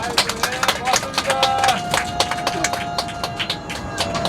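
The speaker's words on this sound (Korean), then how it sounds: "큰 박수 한번 부탁드립니다" A tour group of trainee history docents on a field trip applauds their bus driver, giving a run of brisk, crisp hand claps that continues under a speaking voice.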